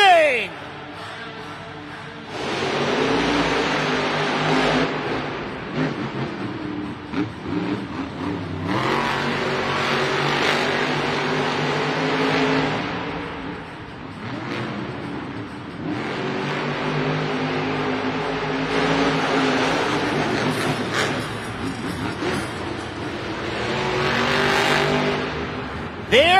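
Monster truck engines, including El Toro Loco, revving hard during stadium racing in Cardiff, loud roaring surges that rise and fall in repeated waves, with announcer talk mixed in.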